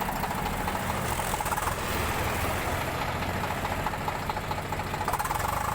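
An old Eicher 368 Super tractor engine running steadily at idle, a continuous low mechanical rumble with a faint knocking texture, close and constant, with no voices.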